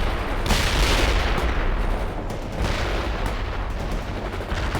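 Dense gunfire in the video game World in Conflict, loud and sustained bursts with heavy booming reports rolling through the whole stretch.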